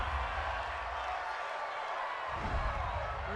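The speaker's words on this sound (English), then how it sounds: "This home crowd, they're happy with that call" Home crowd at a Green Bay Packers versus Pittsburgh Steelers football game roaring steadily in a stadium after a pass interference flag, a broad continuous wash of cheering that swells slightly toward the end.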